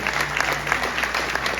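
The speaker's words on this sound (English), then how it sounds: "round of applause" A crowd at a boxing press conference gives a steady round of applause, dense clapping throughout with a faint murmur of voices beneath.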